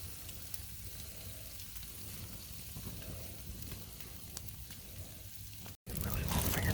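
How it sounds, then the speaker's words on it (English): T-bone steaks sizzle and fry steadily in a pan with a constant crackling hiss that runs throughout, broken by a brief dropout near the end before the sizzle returns louder. "These steaks are cooking really good."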